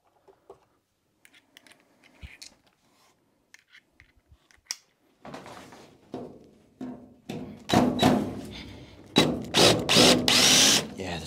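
Power screwdriver working on rounding screws in an incubator teardown, starting with sparse clicks and taps, then repeated loud whirring bursts that grind and slip on the screw heads, close and getting louder.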